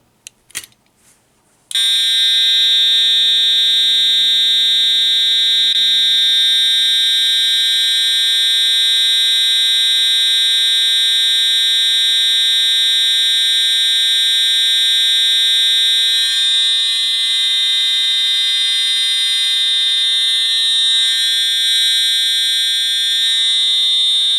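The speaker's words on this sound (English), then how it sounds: "Alarm had been silenced. This thing is extremely loud, even with hearing protection." A fire alarm system under test blares continuously at high volume after a brief moment of quiet, a steady piercing electronic tone that holds unbroken to the end.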